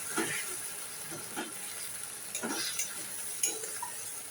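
A ground paste of onion, garlic, ginger and green chilli being sautéed in a pan, with a soft sizzle under a few scrapes and taps of a spoon stirring, fairly quiet and close.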